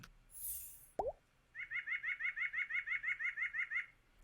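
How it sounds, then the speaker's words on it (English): A recorded white-breasted nuthatch calls a rapid series of about fifteen nasal, evenly spaced notes, clear and fairly close, preceded by a brief rustle and a single soft knock. "The nuthatch, the white-breasted, has kind of, it goes yank, yank, and then it goes wah, wah, wah, wah, wah."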